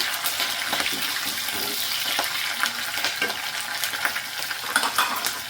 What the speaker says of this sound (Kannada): ಚಿಲ್ಲಿ ಹಸಿರು ಮೆಣಸಿನ್ಕಾಯಿ ಈ ಥರ ಬೇಯಿಸ್ಕೊಳ್ಳೋಣ